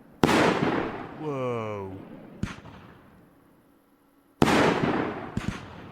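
Fireworks bursting in the video game Fireworks Mania: a sharp loud crack, a whistling rising trail, another short bang, then a second loud burst with crackling, and a brief exclamation from a voice.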